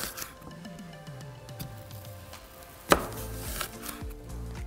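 Onion being cut into rings with a knife on a board, a quick series of soft crunchy chops followed by a sharper knock and a few scattered cuts, close and quiet with no talking.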